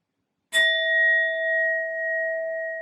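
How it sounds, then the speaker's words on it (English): A sound bowl struck once, ringing out with a clear sustained metallic tone that holds steady and slowly fades over about two seconds, alone with no talk. "I will set and clear the energy using my sound bowl"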